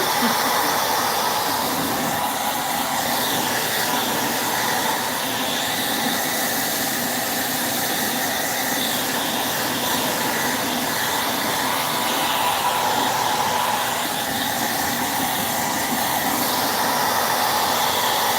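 A hair dryer runs continuously at close range, blowing over freshly painted mailbox surfaces with a loud, steady roaring hiss that barely varies throughout.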